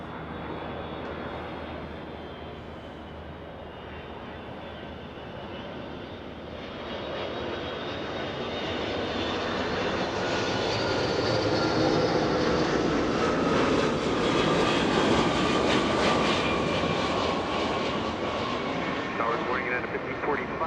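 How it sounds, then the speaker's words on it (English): Delta airliner arriving from Boston at Los Angeles International Airport, a jet roar that swells steadily as it approaches and passes close, with a rising whine and talk over it. "Delta 313 flying in from Boston, Massachusetts."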